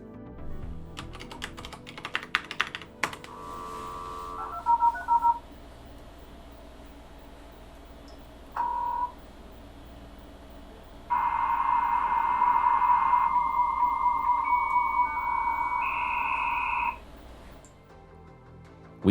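A dial-up modem dials out and connects over a digital PRI line to a Total Control modem card at 1200 bits per second. Short tone bursts and pauses lead into a loud, sustained, warbling handshake screech, with no talk.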